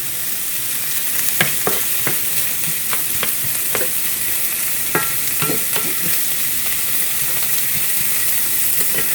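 Onions and minced garlic sautéing in a pan for a low-carb pizza chicken bake, with a constant hissing sizzle and irregular clicks and scrapes of a utensil stirring, close and without talk.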